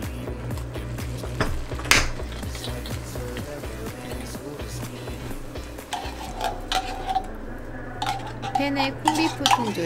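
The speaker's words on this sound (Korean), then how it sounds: "팬에 콘비프 통조림, 양파, 양배추 넣고 수분이 날아갈 정도로 볶으면 완성이에요" Canned corned beef, onion and cabbage are stirred in a pan, with repeated scraping and clinking of a utensil against the metal in an irregular rhythm, close and clear.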